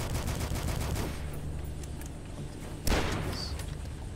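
Rapid video game gunfire from the shooter Dusk, rattling in dense repeated bursts at close range, with a sharp louder blast near the end and continued firing after.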